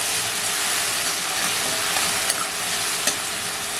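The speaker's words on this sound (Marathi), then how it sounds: "कोथिंबीर थोडी टाकली ना फोडणीवर" Hot oil tempering hisses and sizzles in a pan as coriander is added while making chicken rassa, a loud continuous frying crackle with a couple of brief sharper pops.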